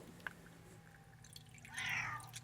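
A cat gives a short, quiet meow near the end, following soft clinking and small drips in a hushed space.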